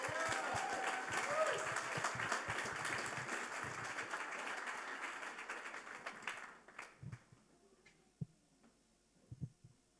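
Audience at a refugee entrepreneur pitch night breaks into dense, sustained applause for about six seconds, then it thins out to a few scattered claps near the end.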